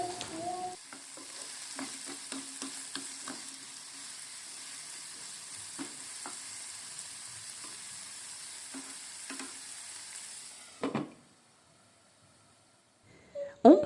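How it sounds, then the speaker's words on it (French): Savoury donut filling fries in a pan with vegetable oil, a steady close sizzle with scattered scraping stirs, then a sudden drop to near silence and a final clatter. "je vais les faire revenir dans une poêle dans laquelle j'ajoute un peu de huile végétale"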